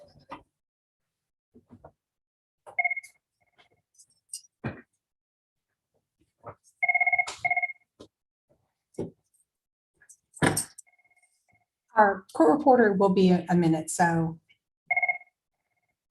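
A telephone rings in short repeated bursts during a quiet court hearing for a school district case, with people speaking between the rings and knocks and thuds around them.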